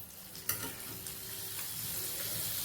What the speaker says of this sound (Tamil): ஸ்டவ் பற்ற வச்சுருவோம், சூடாகட்டும். பட்டர் பாதி போட்டுருவோம்.